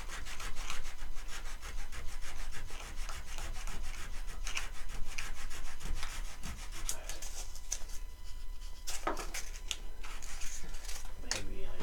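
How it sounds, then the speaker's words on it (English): Sandpaper rubbing back and forth over glued wood on a trebuchet build, a steady close scratchy rasping that continues throughout with a few sharper scuffs near the end. "Sandpaper, because they're all glue on here."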